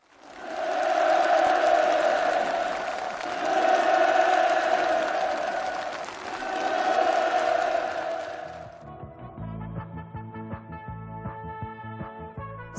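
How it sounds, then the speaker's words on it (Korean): A large ceremony crowd applauds enthusiastically, a dense roar of clapping and cheering that swells in waves for several seconds before giving way to music. "참가자들의 열렬한 박수 속에 살림집 이용 허가증이 전달되고"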